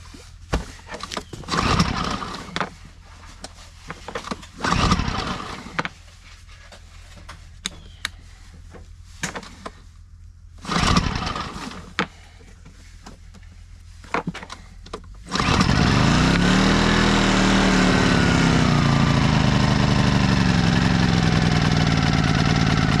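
A pull-start engine on choke, a piece of homestead equipment, gets several short, separate pulls before it catches and settles into a loud, steady, close idle.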